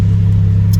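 A 2016 Porsche 981 Cayman GT4 idles with a steady, loud low exhaust rumble throughout, close by, with no talk over it.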